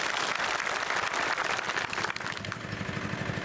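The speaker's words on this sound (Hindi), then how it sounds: "अगर याद है तो तालियों की गड़गड़ाहट का" A large crowd at an election rally in Muhasa, Shivpuri, breaks into loud, sustained applause. The dense clapping rolls on steadily, close and full, with no speech over it.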